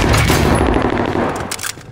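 Loud, close game gunfire from a shooter video game, a rapid automatic stream of shots that thins into a few separate cracks toward the end, with no voices over it.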